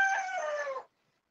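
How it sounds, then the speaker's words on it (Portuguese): A rooster crows once, a single drawn-out call lasting under a second and heard moderately close, then it cuts to silence. "Tem um galo cantando aí, que maravilha."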